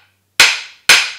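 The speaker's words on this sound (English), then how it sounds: "So just take a little hammer, give a little whack." Two sharp metallic whacks, about half a second apart, from a small hammer striking the ear of an axle shaft u-joint on a Ford Super Duty during a steering wander repair. Each strike is close, loud and rings out briefly.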